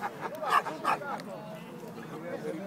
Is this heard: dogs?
yes